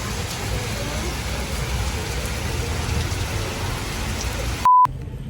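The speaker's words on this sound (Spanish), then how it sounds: "Sí, pero ahora está lloviendo. Hay una tormenta." Steady rain falls during a storm, a dense continuous hiss of drops on surfaces throughout, ending with a short electronic beep.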